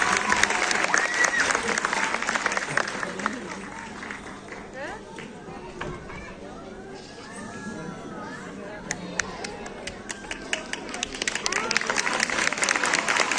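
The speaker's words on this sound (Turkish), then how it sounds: "hazırsak kuvvetli alkışlarınızla gitar öğrencilerimiz bizlerle" An audience at a municipal guitar performance applauds to welcome the guitar students, dense clapping that thins in the middle amid crowd chatter, then swells loud again at the end.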